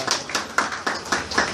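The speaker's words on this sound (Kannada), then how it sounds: "ಬಾಕಿಯವರೆಲ್ಲರೂ ಕೂಡ ಯಾರು ಹೇಳಲಿಲ್ಲ ಅವರೆಲ್ಲ ಅವ್ರಿಗೋಸ್ಕರ ಚಪ್ಪಾಳೆ ತಟ್ರಿ." A handful of people in an audience clap briefly and unevenly, with about six soft claps spread across less than two seconds.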